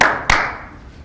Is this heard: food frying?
no